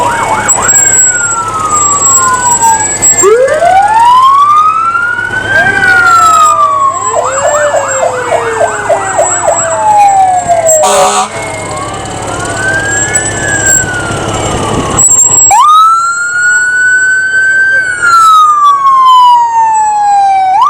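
A retired fire truck's siren wails loud and close in a Madawaska Acadian Festival parade, sweeping up and down in long continuous cycles with a steady engine rumble beneath.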